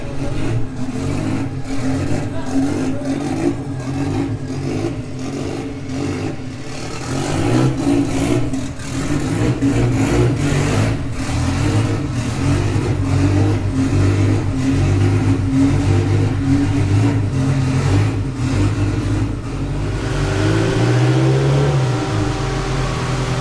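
A Mark II car with no exhaust fitted runs on a dyno on pump fuel, its raw engine loud and near, idling and blipping with rapid crackling pulses before climbing in a sustained rev toward the end.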